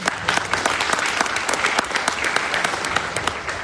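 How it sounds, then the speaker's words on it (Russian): A seated audience at a business talk in Almaty gives a round of applause, dense steady clapping from many hands filling the room at close range with no voices over it. "Can I have a round of applause for Steph?"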